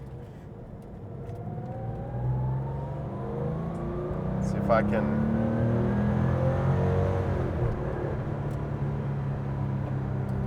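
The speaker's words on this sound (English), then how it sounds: "The revs climb so quickly that you're not waiting." An air-cooled Porsche 993 Carrera RS flat-six revs up steadily from inside the cabin, its engine note climbing smoothly and staying prominent while someone speaks briefly over it.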